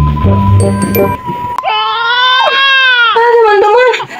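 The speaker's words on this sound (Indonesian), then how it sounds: "Bayinya menangis teman-teman." Newborn baby crying in a home birth scene on a bed, loud, close wails in two long drawn-out cries after a brief stretch of voices and a faint jingle at the start.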